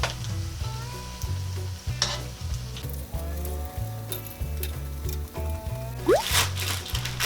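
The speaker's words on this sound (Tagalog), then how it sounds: "Ngayon po ay iikotin na po natin kasi medyo nag-brown na siya ng konti." Cassava turon sizzles steadily in hot oil in a pan while it is flipped, a continuous loud frying hiss with light stirring and scraping sounds mixed in.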